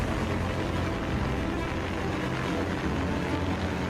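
Continuous broadband rotor and motor roar from the Prosperity eVTOL air taxi descending in vertical mode for an autonomous landing, loud and steady throughout.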